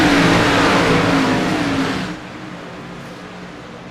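NASCAR Xfinity Series race cars in iRacing roar off the start at Darlington Raceway, a loud close engine rev holding its pitch before dropping sharply into a quieter, distant drone.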